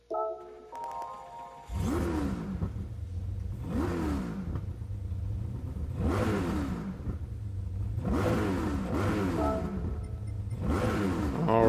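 A Chevrolet Corvette C7 Gr.4 race car engine in Gran Turismo 7 cranks and starts, then revs repeatedly in rising, whining bursts, about five loud revs in a steady rhythm.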